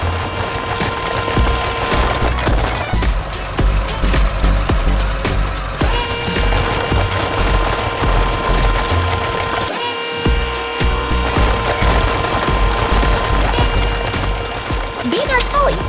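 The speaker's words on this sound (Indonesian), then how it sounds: "Suara mesinnya begitu kuat saat menghantam batu." Tunnel boring machine grinding into rock in a 3D animated construction scene, a loud, dense mechanical roar with droning hum and rattling throughout, briefly dropping out near the ten-second mark, with no talk over it.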